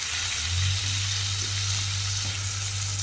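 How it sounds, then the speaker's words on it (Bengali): Black cumin paste frying in a pan while being stirred, a steady loud sizzle throughout with soft scraping stir sounds mixed in, no talking. "মিশিয়ে নিয়ে এর মধ্যে একটু নেড়ে চেড়ে কষিয়ে নিচ্ছি"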